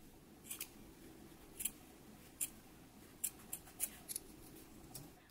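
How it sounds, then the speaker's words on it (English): Scissors snip through the seam allowance of sewn pants, a series of about ten crisp, close cuts spaced irregularly, some in quick pairs, over a quiet room. "we can go ahead and trim down this seam allowance"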